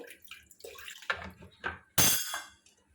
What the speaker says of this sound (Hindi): ये देखिए, मैं थोड़ा सा और पानी ऐड कर रही हूँ